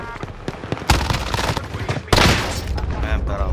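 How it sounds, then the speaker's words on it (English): Call of Duty Warzone enemy precision airstrike, heavy booming blasts and crackling bursts in quick succession, loud and dense, with a voice talking over the explosions. "Enemy precision airstrike, stay alert!"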